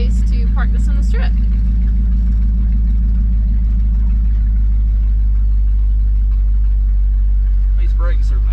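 Car engine running steadily on its first drive down the road at a rod run, a loud constant low drone throughout with brief voices at the start and end.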